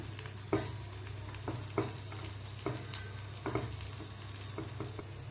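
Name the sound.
ingredients being flipped and stirred in a frying pan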